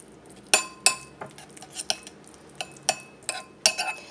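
A spoon stirring a honey, turmeric and Greek yogurt face mask in a small bowl, giving irregular clinks and taps of metal against the dish with quiet scraping between them.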